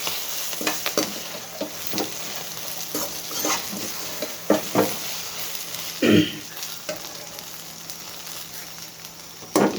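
Chilli powder sizzling in oil as brinjal is stirred in a pan, with a constant frying hiss and regular spoon scrapes and clinks, one louder scrape near the end.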